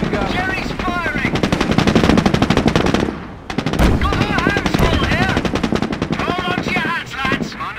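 Rapid machine-gun bursts and rifle fire dominate a Company of Heroes battle, loud, dense and close, with a brief lull before the fusillade resumes.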